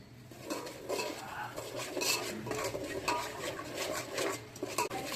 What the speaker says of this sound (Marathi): त्याला फिरवत राहायचं एक लो फ्लेमवर